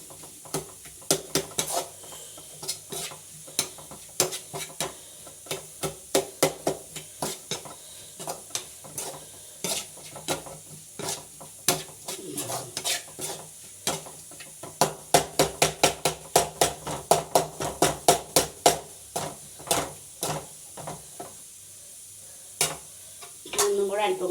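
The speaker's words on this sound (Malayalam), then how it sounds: "മൂടി തുറന്ന് നമുക്ക് ഇളക്കി കൊടുക്കാം തക്കാളിയൊക്കെ നല്ലോണം അരിഞ്ഞു വരണം" Chopped tomatoes are stirred in an open cooking pan, a spoon scraping and clattering in quick irregular strokes over a low sizzle, with bursts of rapid stirring toward the middle; no speech.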